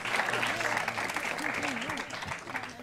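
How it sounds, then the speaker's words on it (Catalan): Studio audience applauding on a Catalan letter quiz show, steady clapping throughout with a voice speaking over it. "Un aplaudiment per Marçal"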